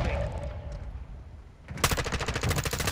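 Rapid machine gun fire in an online battle royale shooter match, loud and close, a fast continuous burst of shots following a quieter stretch of game ambience.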